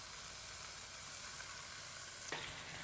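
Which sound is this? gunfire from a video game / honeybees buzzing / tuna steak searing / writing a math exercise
tuna steak searing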